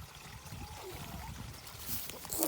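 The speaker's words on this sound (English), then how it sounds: "You filling up the water, Charlotte?" Water trickles and pours steadily as a container is filled outdoors on a small farm, a close, continuous splashing stream that grows slightly louder toward the end.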